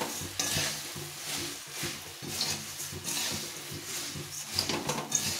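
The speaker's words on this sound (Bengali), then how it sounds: "দিয়ে এটাকে ভালো করে ভেজে নিতে হবে।" Puffed rice stirs and fries in a pan, giving a soft continuous sizzle broken by repeated scraping and rustling strokes of a spatula against the metal. The sound is close and fairly quiet, with no talking.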